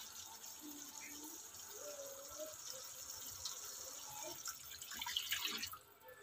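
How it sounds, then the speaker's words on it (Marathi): Hot water is poured into a pan of cooking paneer in a home kitchen, a soft running splash building louder toward the end, with a voice faintly present. "तर मी ह्याच्यात आता गरम पाणी ओतणार आहे"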